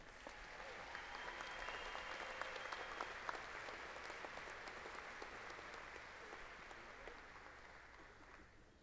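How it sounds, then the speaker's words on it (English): Steady, fairly distant audience applause fills a large hall at a fall university commencement ceremony, a continuous wash of clapping honoring graduating students, with a few faint bird chirps over it. "Please honor these students with a round of applause."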